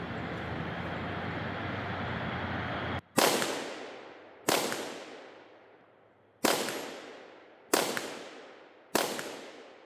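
Outdoors at a shooting range, a steady rushing noise gives way to five loud, sharp gunshots aimed at a steel auto popper target, each with a ringing decay, spaced one to two seconds apart, with no talking.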